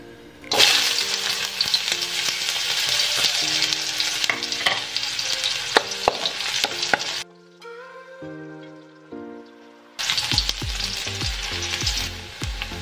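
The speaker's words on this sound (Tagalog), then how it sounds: "hintayin lang natin uminit ang ating mantika bago tayo maggisa. Unahin natin ilagay ang luya." Ginger sautéing in hot cooking oil for chicken binakol, loud continuous sizzling and stirring up close, broken by a short quiet stretch where music plays before the frying returns.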